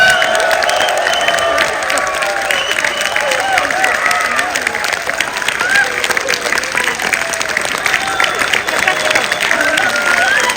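Dense, steady applause and cheering from a crowd at a film premiere, with whoops rising over continuous clapping throughout.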